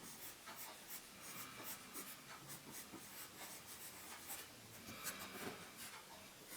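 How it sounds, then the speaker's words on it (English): A pencil sketches a Squirtle on paper. It makes a quiet, continuous scratching with short rhythmic strokes, close up, with no voices. "I'm drawing these panelings on the front of the body."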